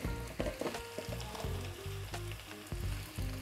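Boiled eggs frying in oil over a medium flame for a Bihari-style egg curry, a loud close sizzle with bursts of crackling and stirring, no talking.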